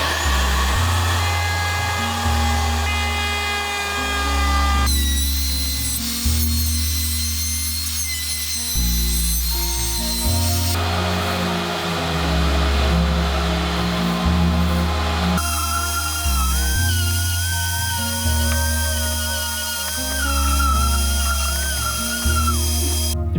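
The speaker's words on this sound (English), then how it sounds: "I'm taking my project to the router table and I'm using a round over bit" A router table fitted with a round-over bit shapes the edges of a checkered wooden cutting board, loud high-pitched whine with repeated passes, the motor tone shifting between cuts, no talking.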